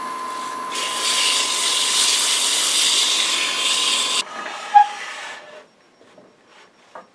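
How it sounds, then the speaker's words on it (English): Coarse grit sandpaper pressed against a spinning wooden turning on a lathe gives a loud, even rasping hiss for several seconds, then stops, leaving the motor winding down with a few small knocks. "Coarse grit sandpaper."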